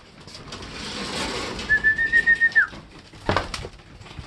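A racing pigeon in a loft gives a short burst of soft, rhythmic cooing, a quick series of close pulses followed by a single whistled note and a brief rustle, with the loft otherwise quiet.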